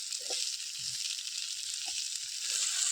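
Fresh karli fish fry in just a spoonful of oil, a steady bright sizzle running the whole time with a few soft low bumps from the pan and no talk.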